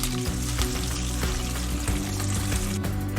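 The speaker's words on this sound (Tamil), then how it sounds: "அந்த புளி தண்ணியை ஊற்றிக்கலாம்." Tamarind water poured into a hot frying pan, with steady sizzling and bubbling that continues throughout, close and fairly loud.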